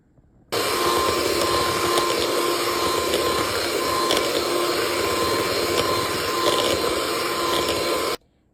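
An electric stand mixer runs steadily for about eight seconds, creaming sugar into white cake batter, with a loud, even whir that starts and stops abruptly and has no voices over it.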